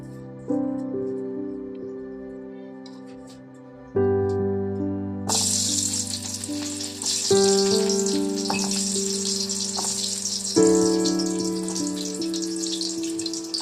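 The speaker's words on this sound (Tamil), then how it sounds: "எண்ணெய் நல்லா சூடாயிட்டு இதில் பொடி வெங்காயம் சேர்த்துக்கலாம்." Finely chopped onion tipped into hot oil over a low flame sets off a sudden, steady sizzle about five seconds in, a continuous close hiss over soft background music, with no talking.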